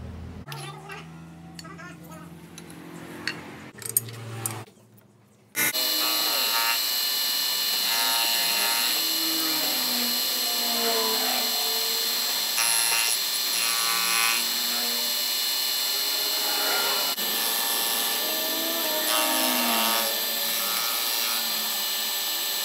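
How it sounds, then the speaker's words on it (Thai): A milling machine cuts across a welded motorcycle reed part, a loud steady high-pitched whine with a grinding edge that starts suddenly after a few seconds of quieter workshop handling and continues throughout. "คราวนี้ก็เอาไปขึ้นเครื่องมิลลิ่งปาด"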